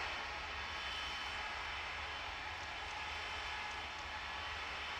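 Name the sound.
airliner departing, from video game Tower! Simulator 3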